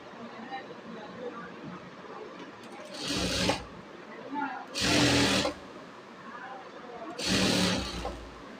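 A sewing machine stitches the collar of an Arabian jubba in three loud, even bursts of about half a second to a second each, with quiet room sound between the runs.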